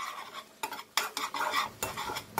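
Chunjang black bean paste stir-fried with splashes of noodle cooking water in a hot pan, made for ramen jjajang noodles: a run of close, rhythmic scraping stir strokes in separate bursts, with a faint sizzle beneath.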